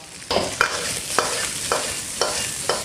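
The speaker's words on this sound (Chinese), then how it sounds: "炒点姜葱蒜、干花椒、坛子肉、青红椒" Ginger, scallion, garlic, dried Sichuan peppercorns, jar-preserved pork and green and red peppers being stir-fried in oil in a wok, with steady loud sizzling and six sharp spatula scrapes spaced about half a second apart.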